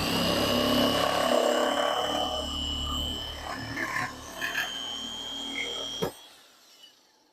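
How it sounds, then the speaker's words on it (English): Metal nipper cutting 20 gauge steel in a shop, nibbling a small piece and a curve, gives a steady loud rasping mechanical buzz that runs for about six seconds, then stops abruptly with a sharp clack and fades to quiet. "Let's see if we can just nip off a little piece here."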